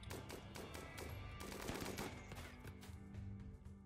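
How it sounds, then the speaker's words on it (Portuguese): Rapid cannon and gunfire bursts from a Rimworld colony battle, dense repeated blasts filling the whole stretch at steady loudness with no talk. "Tá tiro de canhão, não adianta nada."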